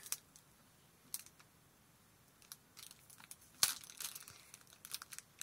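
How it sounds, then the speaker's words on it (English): A pack of Harry Potter watercolor stickers being opened, with faint, sparse crinkles and crackles of paper and plastic, close and quiet with no talk. "today we're going to be opening up the watercolor stickers"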